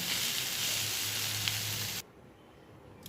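Vegetables fry in a pan with a broad, steady sizzle and hiss for about two seconds, then the sound drops away abruptly to near quiet as the cooking stops.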